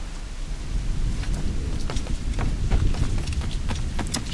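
Heavy rain hisses steadily during a nighttime storm in the Assassin's Creed Rogue video game, with low thunder rumbling underneath and scattered sharper patters, loud and continuous throughout.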